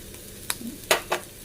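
Teasel gourd seeds frying in a pan and stirred, with a steady low sizzle broken by a few short, sharp scraping strokes of the spoon, close and moderately loud.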